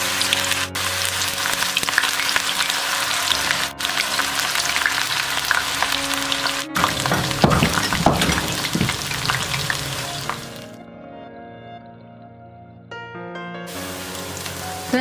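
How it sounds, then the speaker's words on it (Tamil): Mushroom and cabbage masala pieces deep-frying in hot oil for a roadside-style Tamil dish, a loud continuous bubbling sizzle with stirring that drops off sharply near the end, then briefly returns. "இப்போ இந்த சைடு வந்து நான் ஆயில் வந்து ஃப்ரை பண்ணதுக்காக வச்சுருக்கேன்."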